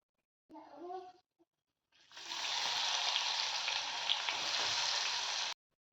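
Chopped onion drops into hot oil with cumin and whole spices and sets off a loud, steady sizzling hiss, after a brief voice at the start.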